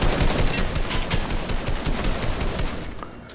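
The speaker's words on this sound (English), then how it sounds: "I'm getting shot at by this UFO." Rapid gunfire from a UFO in the video game Fortnite, a dense continuous stream of loud close shots that keeps hammering for over three seconds and eases slightly near the end.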